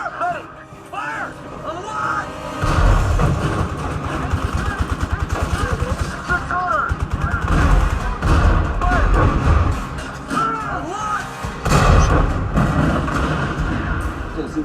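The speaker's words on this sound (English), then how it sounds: "It's got machine guns and tanks trying to blow each other up" Machine guns and tank cannon fire from a war film soundtrack played through a Focal Sub 1000 F subwoofer, with heavy low rumble, rapid bursts of thudding gunfire and booming blasts under shouted dialogue.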